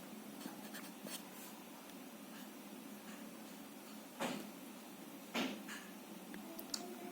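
Pen or marker scratching steadily across a board or paper while equations are written out, with soft rhythmic strokes and a couple of louder taps, fairly close in a quiet room.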